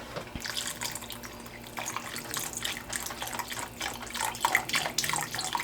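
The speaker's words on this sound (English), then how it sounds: "what I'm gonna do is take some of this vegetable broth" Vegetable broth pours into a pan of Italian sausage pasta sauce, a steady splashing, trickling stream that runs the whole time, close and moderately loud, with no talking.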